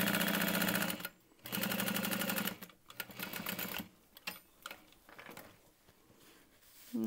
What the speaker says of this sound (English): I like to backstitch quite a bit at the bottom where those pockets join.